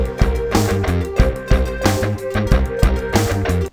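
A modern rock verse plays loud and steady, with punchy drums hitting a regular beat under sustained bass and guitar, no talking.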